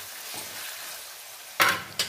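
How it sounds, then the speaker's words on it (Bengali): Garlic and ginger stirred into a spice paste in a hot pan, a soft steady sizzle running throughout, broken by two sharp scraping stirs near the end. "পুরানো আদা দিয়ে আবার একইভাবে কষাতে থাকবো প্রায় 5 মিনিট ধরে।"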